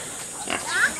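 Pigs in a pen oink and give a short squeal, close and fairly loud, lasting about a second.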